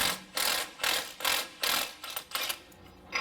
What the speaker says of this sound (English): all you're going to have to do is go ahead and remove your axle nut that you use to hold your brake rotor on